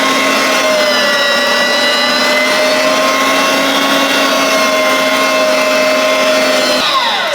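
An electric meat grinder grinding pieces of lamb and beef: a loud, continuous whining motor hum that holds steady for several seconds, then shifts slightly near the end, up close with no talking.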